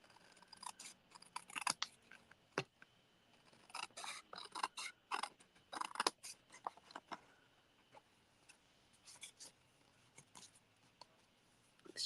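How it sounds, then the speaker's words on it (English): Scissors snip through paper scraps for card-making in close, quiet, irregular cuts with small rustles and pauses between them. "And then I'm going to cut these bits off."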